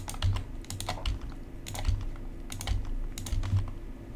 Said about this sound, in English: So I'm just going to click on each one and hit delete.